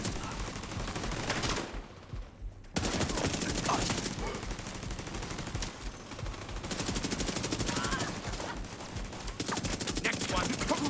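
Automatic turret gunfire in a video game rattles in long, dense bursts almost without pause, loud and close, with a short break near the two-second mark and faint voices under the shooting.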